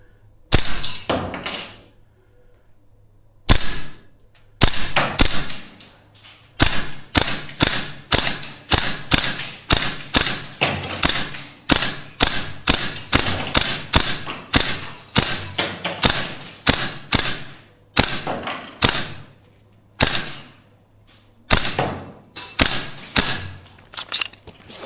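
A VFC URGI V3 airsoft gas blowback rifle fired at Texas Star steel targets, loud sharp single shots and quick bursts that come in an uneven rhythm close by, with a short pause at the start.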